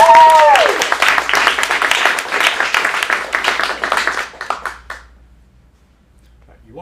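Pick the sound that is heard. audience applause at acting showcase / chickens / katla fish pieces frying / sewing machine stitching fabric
audience applause at acting showcase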